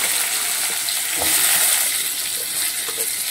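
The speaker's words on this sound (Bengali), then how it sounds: "আলুগুলোকে আমি ভেজে নেব ভালো করে।" Potato pieces fry in hot oil spiced with chili, bay leaf and five-spice seeds, giving a continuous close sizzle and crackle with small pops and stirring scrapes.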